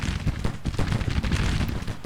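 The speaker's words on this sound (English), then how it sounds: "I can definitely see some explosions in the area, so I guess our soldiers are now opening up fire." Distant, continuous battlefield din from Grand Tactician: The Civil War, with dense musket volleys and scattered booms rolling together into a steady, crackling rumble and no talk over it.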